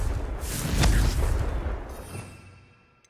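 A Confringo fire spell explodes in Hogwarts Legacy: one deep, broad blast swells with a rushing whoosh and then fades away over a few seconds, with no voices.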